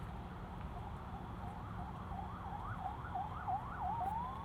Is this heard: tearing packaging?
no